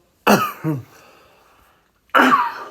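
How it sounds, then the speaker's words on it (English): A few sharp throat-clearing coughs close to the mic, two quick bursts, a short pause, then another harsh cough, with no talking. "sorry if I'm coughing."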